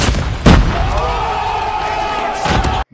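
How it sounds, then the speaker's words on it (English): Heavy machine gun fire in a mobile shooter game, a loud dense stream of game audio with a heavy burst at the start and another near the end before it cuts out abruptly. "Heavy machine gun."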